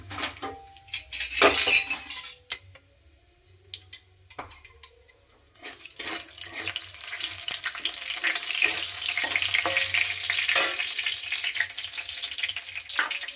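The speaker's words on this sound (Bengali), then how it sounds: "এবার কড়াই ফোড়ন দেবো তেজপাতা শুকনো লঙ্কা আর দেবো জিরে" Bay leaves, dried chillies and cumin hitting hot oil in a pan for an aloo potka dish, clinks and utensil knocks first, then a sudden sustained crackling sizzle that stays loud and steady.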